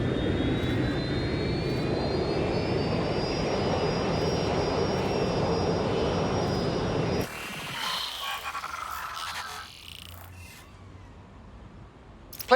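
An airplane in the Watch Dogs Legion video game gives a steady jet engine roar with a whining tone for about seven seconds, then cuts abruptly to quieter, scattered game sounds.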